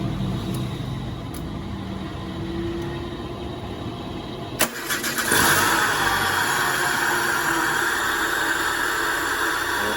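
A Peugeot 306 engine cranks and catches partway through, then settles into a steady, loud idle hum.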